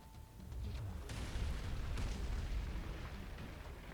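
An anti-witchcraft cannon strikes its target in the video game Arknights, a loud, dense rumbling blast with sharp crackling onsets that holds as a sustained roar, with no talk.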